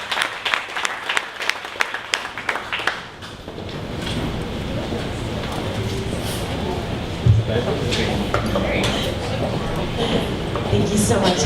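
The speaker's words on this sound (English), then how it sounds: "All right, one more round of applause for Pristine." Audience clapping at a 1 Million Cups startup pitch event in Dallas, a room-filling burst of applause that swells after a few seconds of scattered claps and continues steadily to the end.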